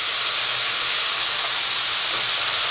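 Vegetables sizzle in a hot pan while being stir-fried for veg noodles, a loud, steady hiss of frying that holds without a break, close up, with no voices.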